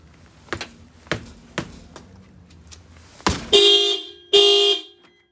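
A factory car alarm fitted with a tilt/shock sensor and relay is triggered when the wheels are kicked: several sharp thuds and clicks, then two loud, close horn-like chirps blare in quick succession before cutting off.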